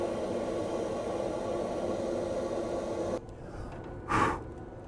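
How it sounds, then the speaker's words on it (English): A hand torch roars steadily and close while lighting pecan pellets packed in a smoke tube on the left side of a grill. The roar cuts off after about three seconds, followed by a brief soft puff. "slide this tube right here on the left side of the grill and light it up with a torch"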